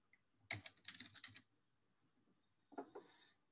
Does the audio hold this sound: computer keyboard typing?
yes